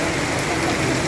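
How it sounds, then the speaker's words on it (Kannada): Heavy rain beating down hard, a loud, dense, unbroken patter and hiss close by, with no talking. "ಮಳೆ ನೋಡಿ ಹೆಂಗೆ ಹೊಡಿತಿದೆ"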